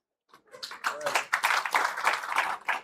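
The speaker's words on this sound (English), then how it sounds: "A clap for them, please." At a students' gathering with the president, an audience breaks into close, lively clapping. It starts sparse, then builds into steady, dense applause, with voices faintly mixed in.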